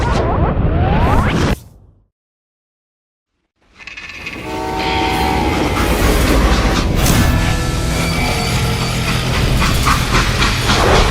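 A train in the Western game Call of Juarez: Gunslinger rumbles loudly along the rails with horn-like tones, starting strong, dropping to silence for about two seconds, then returning in a sustained roar.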